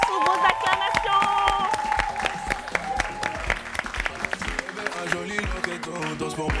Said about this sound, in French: nous allons accueillir notre 6, René, qui arrive sous vos acclamations